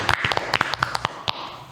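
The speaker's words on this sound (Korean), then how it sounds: "우리 박수로 시작합시다." A few people in a small studio clap to open a talk show, a short scattered patter of distinct hand claps close by, thinning out after about a second.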